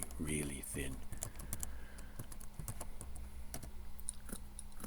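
Calculator keys are tapped in quick, irregular clicks at close range, fairly quiet, during a chemistry calculation of aluminum foil thickness, with brief talk at the start.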